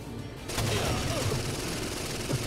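Gunfire in the Rainbow Six Vegas 2 shooter game: a burst of rapid shots starts after a brief lull and rattles on loudly, with a few sharper reports near the end.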